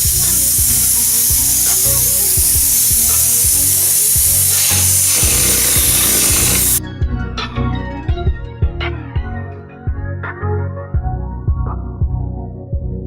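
A hopper gun fitted with a 1/4 nozzle at 40 psi sprays a second layer of concrete onto a concrete sink mold, a loud steady hiss for about seven seconds that cuts off abruptly, leaving scattered knocks and clatter.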